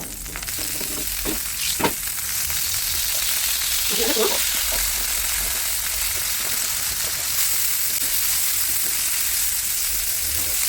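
Martabak spices sauté in margarine in a pan, with a steady bright sizzle and occasional scraping stirs and clinks of a utensil against the pan.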